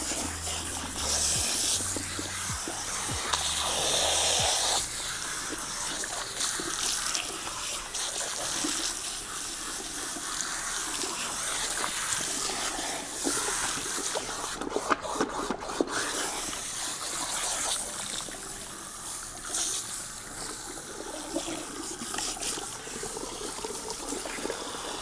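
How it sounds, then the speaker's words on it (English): Warm water sprays steadily from a shower head at turned-up pressure while highly textured hair is rinsed during a wash. The broad, close hiss runs continuously throughout. "we're gonna begin the rinsing process with warm water"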